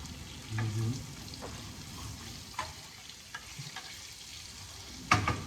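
Mung beans with garlic cook in a pan, making quiet, scattered scrapes and soft clinks from stirring over a faint background sizzle, with no voices.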